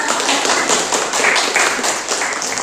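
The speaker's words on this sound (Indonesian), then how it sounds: "Pintar, tepuk tangan dong" Students clapping hands together in a junior high school classroom, a brisk sustained patter of many hands close by, with no talking over it.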